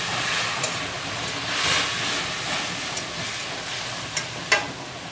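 Whisked spice paste hisses and sizzles steadily in a pan over lowered gas heat, with a few soft clinks and a louder stir near the end.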